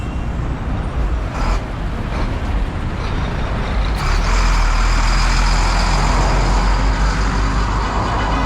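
Heavy trucks hauling construction sand roll along a busy Nairobi highway, their loud diesel rumble continuous amid traffic, with a hiss of air brakes and the engine noise swelling louder midway through.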